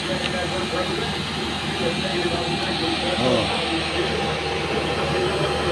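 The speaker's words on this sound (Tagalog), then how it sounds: "Ito po blower." An air blower runs with a loud, steady broadband roar that stays constant throughout, while a person briefly makes a short exclamation over it.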